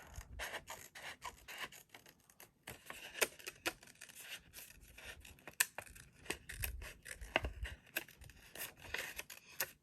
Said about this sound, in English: I'm going to go ahead and just cut some of those flowers off.